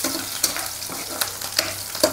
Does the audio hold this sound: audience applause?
no